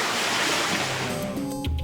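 Underground river Chechyora beneath central Moscow rushes through a smooth brick-lined channel, a steady, close, loud wash of flowing water with no voices.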